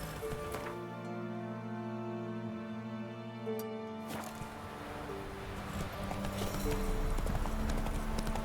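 A horse gallops in The Witcher 3 video game, with rapid rhythmic hoofbeats running steadily beneath layered music and ambient game sound.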